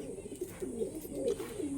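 Pet pigeons eager for food give low, rolling coos in a few overlapping phrases, close by and fairly quiet, with no voices.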